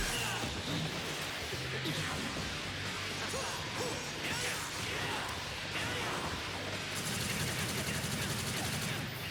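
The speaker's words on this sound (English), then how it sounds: "Please stop shooting me, Dante." Rapid bursts of video game gunfire crackle densely and continuously, mixed with crashes and impacts, while a voice talks underneath.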